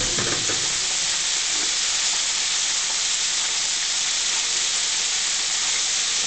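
Soft shell crab deep-fries in hot oil, giving a steady, dense, loud sizzle and hiss that holds unbroken throughout, with no voices.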